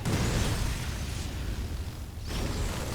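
A roach unit is destroyed in StarCraft II amid a loud, dense rumble of explosive bursts and booms that briefly thins before surging again.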